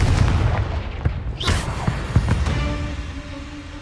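Spell blasts and booming combat impacts in the video game Hogwarts Legacy, several sharp explosive hits in quick succession with a whooshing sweep, loud and busy, while a voice calls out spells.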